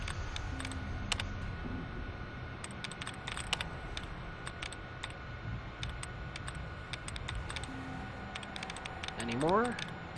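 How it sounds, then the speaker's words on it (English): In Fallout: New Vegas, a character taps on a computer keyboard in scattered bursts of faint, quick clicks under a steady game hum while someone talks over it. "you have to see him typing all this shit again and again"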